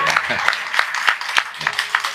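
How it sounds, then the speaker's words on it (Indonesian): An audience at a religious talk gives another round of applause, heard as a series of sharp, evenly spaced claps in a steady rhythm, with voices running underneath. "boleh tepuk tangan sekali lagi"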